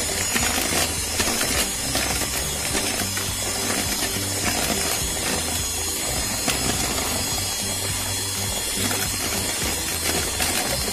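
An electric mixer beats cake batter with sugar for a black forest cake, a steady loud whirring drone with rattling clatter throughout, very close and continuous.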